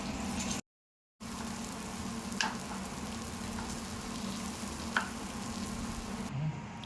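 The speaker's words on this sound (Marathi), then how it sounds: "आणि जेव्हा आपण ह्याच्यावर तव्यावर टाकतो तेव्हा स्लो फ्लेमवर ठेवायचं" Crispy chicken sizzles on a tawa griddle over a medium flame, a steady close frying hiss with a couple of sharp crackles and a brief dropout near the start.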